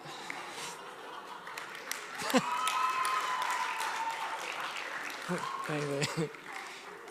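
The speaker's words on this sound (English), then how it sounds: "I love it that the only time I get applause is with an Anglican joke" An audience in a church hall breaks into applause after a joke, a broad wash of clapping that swells and holds at moderate distance while voices and laughter mix in.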